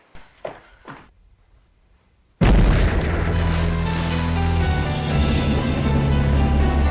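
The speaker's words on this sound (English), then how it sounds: "It's just a shotgun blast going off in my house." A shotgun blast from the horror film Phantasm erupts suddenly after near silence and a few faint sounds, a loud sustained boom that stays heavy and rumbling to the end.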